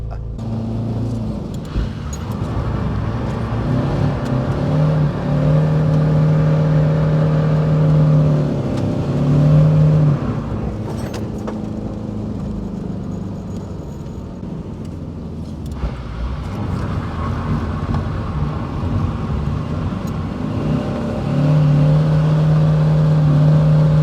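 A drift car's engine idles and warms up before a drifting run, a steady close rumble with a few rises in revs and shifts in pitch and no talk over it.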